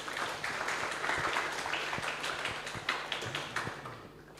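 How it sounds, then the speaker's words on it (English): Applause from a lecture audience for a university vice rector, a thin patter of scattered claps at moderate distance throughout. "Give applause for our Vice Rector."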